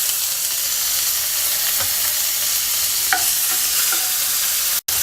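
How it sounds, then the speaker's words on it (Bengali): Chopped onions with whole cumin sizzle steadily in hot oil in a pan while a spatula stirs them with a few soft scrapes; a close, continuous frying hiss with no talking. "পেঁয়াজটাকে হালকা ভেজে নেব।"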